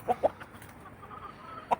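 A few soft clucks from a Marans rooster and a bantam hen, two quick ones then another a moment later, faint against quiet outdoor background.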